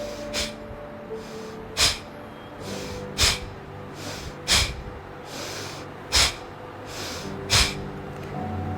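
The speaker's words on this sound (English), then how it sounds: "breathing out, pulling the tummy in and throwing the air out with a jerk." Forceful, jerky exhalations from a seated breathing exercise with hands on knees and the tummy pulled in, about seven sharp bursts at a steady rhythm of roughly one every 1.4 seconds, close and loud, with softer inhalations between and no talking.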